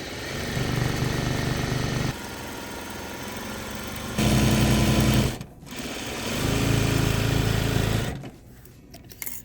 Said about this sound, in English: we're going to stitch all the way down this long side here